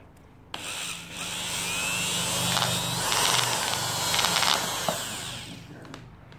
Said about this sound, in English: just drill that through the center.